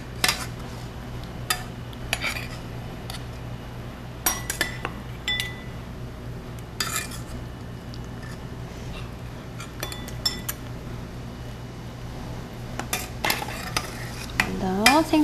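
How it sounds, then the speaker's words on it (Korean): Korean fish stew is ladled into bowls with repeated close clinks of metal utensils against dishes and a pot, over a low background hum. "이제 모두 완성된 생선찌개를 그릇에 담아보도록 하겠습니다."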